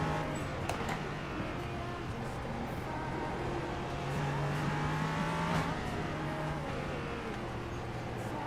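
An LMP3 prototype's engine in a racing game at Belle Isle hums continuously in the background, rising and falling through gear changes over eight seconds, faint and steady with occasional tire noise.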